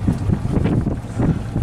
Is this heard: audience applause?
no